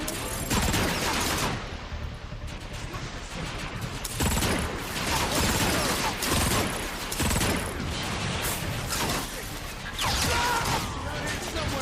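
A heavy machine gun fires in the Transformers: Fall of Cybertron video game, with loud sustained bursts separated by short pauses and crashing impacts, and a voice talking over the gunfire.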